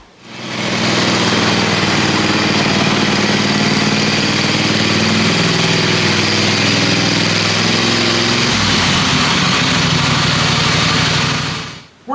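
Briggs & Stratton 22 hp Intek V-twin engine fitted to a Craftsman LT4000 riding mower runs steadily and loudly, a close, continuous droning hum that shifts to a rougher tone near the end before cutting off.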